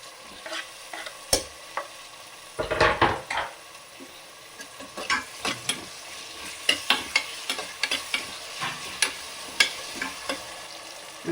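Chopped onion and small tomatoes fry in a pan for palak rice, and a spoon stirs them in repeated scraping strokes over a steady close sizzle. One busier burst of stirring comes early. No one speaks.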